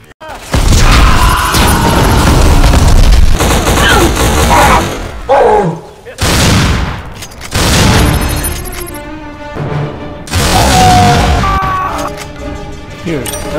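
Loud video game explosions from grenades burst repeatedly, each a heavy boom with crashing debris and roaring decay, separated by brief gaps, with game sound effects and a voice mixed in between.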